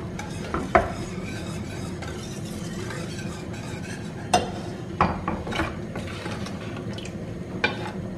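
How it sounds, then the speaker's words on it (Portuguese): Spoon stirring two pots of milk with cornstarch coming to the boil, soft scraping and occasional clinks against the pot, moderately close over a steady low kitchen background. "Eu vou mexer os dois."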